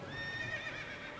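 A horse whinnies in the Final Fantasy XIII video game, a faint high neigh over a soft continuous game background.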